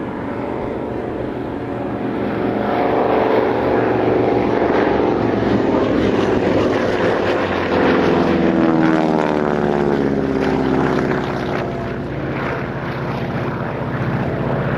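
An Avro Anson twin-engine aircraft at Old Warden aerodrome, with a loud, steady drone of radial engines and propellers that shifts in pitch as it passes close by, heard alone without talk.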